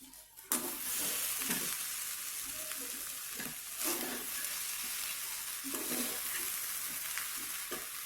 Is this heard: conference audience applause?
no